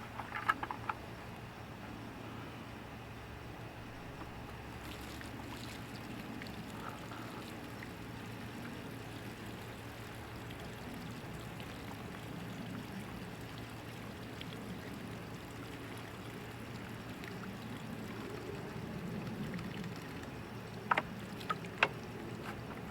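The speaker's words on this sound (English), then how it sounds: "And then I'm going to add some more water and stir it again." Water is stirred in a container while washing material during gold refining from BGA RAM chips, making a faint, continuous swirling slosh with a few light knocks near the end.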